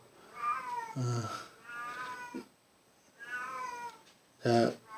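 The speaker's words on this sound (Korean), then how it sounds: "저희 집에 개 1마리하고 고양이 2마리인데 지금 많이 어르렁 야옹야옹거리네요" Cats meow at home, several distinct plaintive meows spaced a second or so apart, fairly close and clear against a quiet room.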